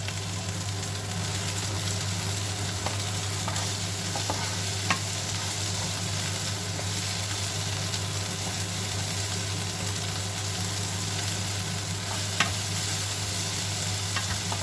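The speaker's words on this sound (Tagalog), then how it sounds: "Antayin po natin maluto yung bawang, sibuyas, kamatis." Garlic, onion and tomato fry in a pan with a steady, loud, continuous sizzle and occasional stirring. No voice is heard over it.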